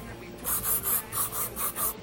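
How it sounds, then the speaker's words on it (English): Hair spray hisses in seven quick, even bursts onto a finished braided chignon hairstyle, close and crisp with short gaps between each spritz. "I'm going to finish the hairstyle just by using a little bit of spray."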